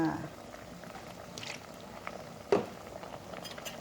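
A pot of mushroom curry with fish simmers with a soft, continuous bubbling close by, joined by a brief knock or clink partway through.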